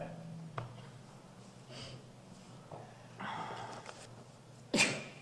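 A single sharp sneeze bursts out near the end amid quiet room tone and faint murmurs at a commission meeting.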